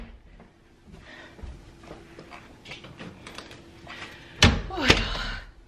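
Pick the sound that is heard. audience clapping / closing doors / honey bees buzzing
closing doors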